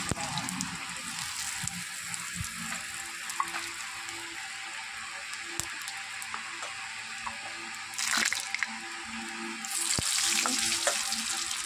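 Cumin, whole garam masala, bay leaf and dried chillies sizzling in oil, a continuous moderate crackle with scattered sharp pops and a couple of louder bursts as spices hit the pan, no talking.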